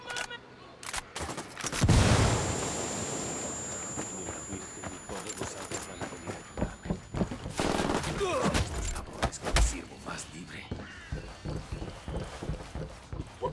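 A frag grenade blast booms early on in a Ghost Recon Wildlands firefight near a barn, followed by scattered rifle shots and footsteps, with voices talking throughout.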